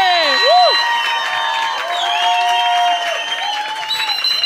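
A studio audience at a comedy talk show cheers and applauds, with loud whoops and high shouted voices over a dense wash of crowd noise lasting the whole moment.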